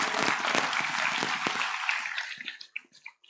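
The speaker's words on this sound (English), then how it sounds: "give a round of applause for all the other participants" College symposium audience giving a round of applause, dense clapping from a crowd that thins out after about two seconds into a few scattered final claps.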